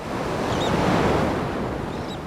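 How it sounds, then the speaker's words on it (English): Ocean waves crash on the shore in a steady, full roar of surf that washes continuously for the whole stretch, with no voices over it. "In every crashing wave,"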